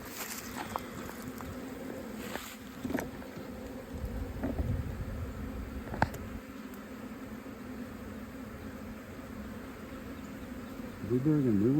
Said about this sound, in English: Oh yeah, there's some bees.